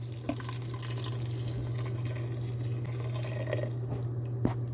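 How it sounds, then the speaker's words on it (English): Coconut milk poured into a pan of curried mushrooms, a steady liquid trickle over a constant low hum, with a few small drips and splashes, no talking. "So now I'm adding 1 cup of coconut milk to the curry mushroom."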